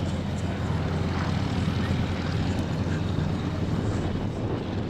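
Steady, continuous drone of Yak propeller aircraft at an airshow in Wanaka, loud and close, holding an even roar throughout with no breaks.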